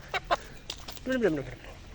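A couple of short clucks followed by a longer, wavering squawk from a chicken, fairly close, with faint background noise.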